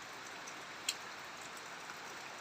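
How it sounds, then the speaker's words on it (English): Steady, soft rain falls outdoors at a house building site in the Philippines, a quiet continuous hiss with a single brief drip or tap standing out partway through. "It's been raining a lot"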